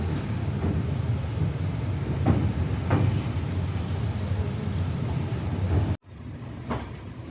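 A steady rumbling rattle of an express passenger train from Chennai Central to Mangalore, with occasional clacks and knocks over the constant roar before the sound abruptly drops lower.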